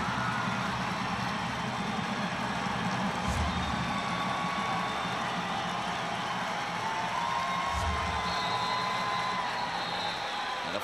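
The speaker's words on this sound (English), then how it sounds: "Utica Eisenhower's faithful on their feet, cheering on the defense." Stadium crowd noise at a high school state championship football game, a steady broad roar of fans on their feet cheering on the defense, sustained throughout with a low engine-like rumble underneath.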